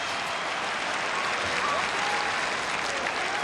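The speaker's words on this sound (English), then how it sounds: "And a big round of applause for the man they love here." Dense, steady stadium applause from a large crowd at an AFL match between Geelong and Melbourne, a continuous wash of clapping and cheering that holds evenly throughout.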